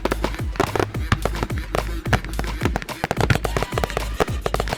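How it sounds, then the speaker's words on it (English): Canada Day fireworks burst and pop in the sky, a rapid irregular run of sharp cracks and crackles, some loud and close, others fainter, with small rockets fizzling up between them. "fireworks explode in the sky behind it"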